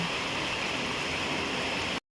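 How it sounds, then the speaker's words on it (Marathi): Evening rain falls steadily over a Kokan village, a dense, even hiss that stays constant at close range for about two seconds and then cuts off abruptly. "पावसाने बघा हजेरी लावली खूप छान वाटतं पाऊस पडतो"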